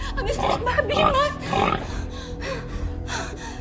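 A pig grunts, snorts and oinks in a steady series of close, breathy, nasal calls without pause.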